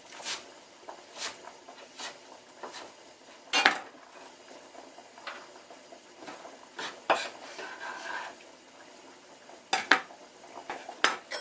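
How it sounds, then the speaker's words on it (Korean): A kitchen knife chops garlic chives into 4 cm lengths on a cutting board, sparse sharp taps spaced irregularly, close and quiet with no talk over them. "부추는 4cm 길이로 잘라요."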